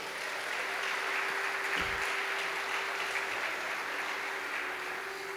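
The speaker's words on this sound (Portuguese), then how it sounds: "Aplauda Jesus bem forte." A church congregation claps for Jesus during a sermon, dense sustained applause at a steady level, with a low hum running beneath it.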